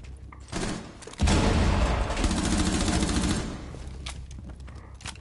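Rainbow Six Siege gunfire: a loud, dense burst of rapid automatic shots with booming low thumps, sustained for a couple of seconds before tapering into quieter in-game noise.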